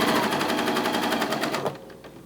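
A sewing machine runs steadily, its fast rapid-fire stitching rattle continuing for about a second and a half before stopping abruptly while sewing a fabric sack seam, with no talking.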